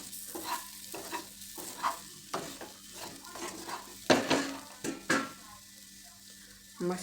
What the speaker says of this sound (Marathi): असं परतून घेऊन सुक्का कारलं सुद्धा बनवू शकतो.